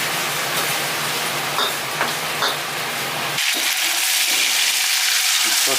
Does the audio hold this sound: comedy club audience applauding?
no